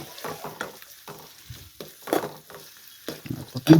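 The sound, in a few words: onion, green chilli and curry leaves frying in a pan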